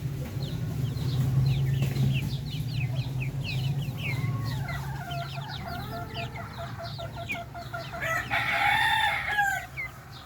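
Many chicks cheep busily in a dense chorus on a Filipino backyard farm with darag chickens, a rooster crowing loudly near the end over a steady low hum, no voices.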